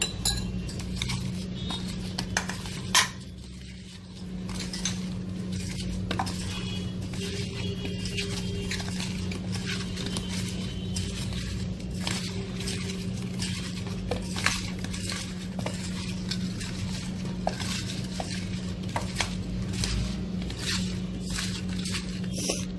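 A spoon clinks and scrapes in a bowl as a mutton marinade is stirred with salt and oil, soft irregular taps and wet squishing over a steady low hum.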